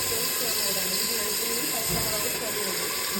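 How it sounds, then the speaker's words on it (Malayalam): Ginger, garlic and small-onion paste sautéing in hot oil, a steady broad sizzle and hiss that holds loud and close throughout, with faint stirring scrapes underneath. "ചതച്ചു വെച്ചിരിക്കുന്ന ഇഞ്ചി വെളുത്തുള്ളി ചെറിയ ഉള്ളി പേസ്റ്റ് ഇതിലേക്കിട്ട് നന്നായി വഴറ്റും"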